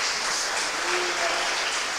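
Steady applause fills the whole moment during a church service, a dense wash of clapping from a congregation with a faint voice briefly underneath.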